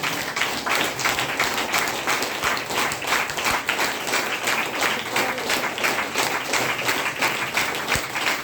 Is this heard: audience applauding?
yes